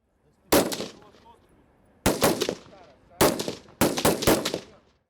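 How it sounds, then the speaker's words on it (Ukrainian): Four sharp rifle shots ring out at uneven intervals during shooting practice, each loud crack followed by a short echoing tail, with quiet in between. "Далі переходять до стрільби."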